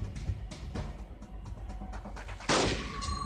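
Gunfire in the Android shooter game Cover Fire: a few sharp shots over a dense game soundtrack, with one loud blast near the end.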